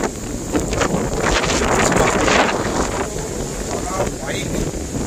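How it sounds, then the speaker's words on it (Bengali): Monsoon wind and rain sweep across a road in Odisha during a car road trip, making a steady, loud broadband roar with wind buffeting the microphone throughout and no clear pauses. "এই বর্ষার বৃষ্টি হচ্ছে, এমনি হাওয়া খুব সুন্দর লাগছে পরিবেশটা"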